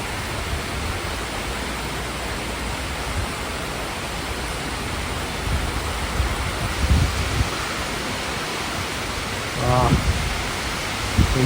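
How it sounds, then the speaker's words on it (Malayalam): Heavy rain pouring as a dense, steady hiss throughout, with brief bumps and faint voice fragments near the end. "ഇവിടെ നല്ല സൂപ്പർ മഴ, മുടിഞ്ഞ മഴയാണ് ഗൈസ്"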